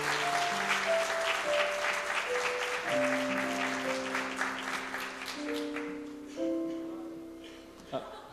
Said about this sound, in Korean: 이호환 전도사님 나오실 때 뜨거운 박수로 함께 맞이하도록 하겠습니다.